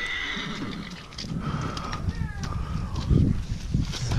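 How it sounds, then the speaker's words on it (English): A neighbouring horse neighs repeatedly outdoors, a shrill drawn-out whinny with hoof clops nearby and a person talking faintly in the background. "so now the neighbor's horse is over there spazzing, excuse me, spazzing out"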